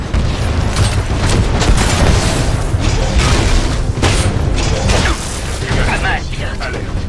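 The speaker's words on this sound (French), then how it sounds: "Coup de feu." Bursts of gunfire and heavy booming impacts fill a battle in the video game Titanfall 2, mixed with mechanical clanks and faint voices, dense and loud throughout.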